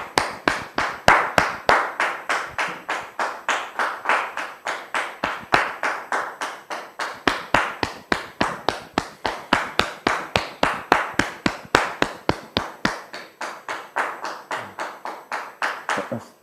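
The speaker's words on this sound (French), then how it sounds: "Je vous demande de la recevoir sous vos applaudissements," A small audience claps in a steady, rhythmic unison beat, sharp regular claps repeating at a brisk even tempo throughout, close and distinct, with little crowd noise behind them.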